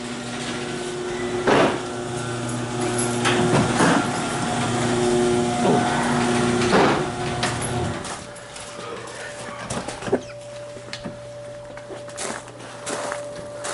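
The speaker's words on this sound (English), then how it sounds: "What the hell is that noise? Oh, that's the dryer." A clothes dryer rumbles with a steady hum and irregular thumps as the drum turns, then the sound drops and quieter thuds continue.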